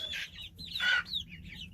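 Americana chickens in a mixed backyard flock give a few short, close clucks and calls, with quiet farmyard background between them.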